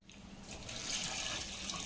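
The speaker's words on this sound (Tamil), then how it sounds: "இதில் வந்து நான் தண்ணி ஒரு ஆளாக்கு வந்து எடுத்துக்கிறேன்." Tap water runs into a vessel of basmati rice being prepared for egg biryani, a steady splashing pour that starts abruptly and continues as a close, even stream.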